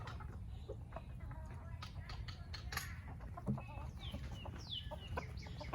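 Hens cluck and murmur softly around a backyard garden compost pile, with scattered short calls and chirps that are quiet and somewhat distant against low outdoor background noise.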